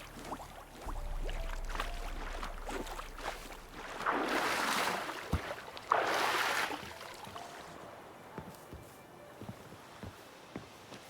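A boat glides across a lake in The Witcher 3, with soft water wash and two louder swells of splashing and rushing water rising midway, otherwise quiet ambience.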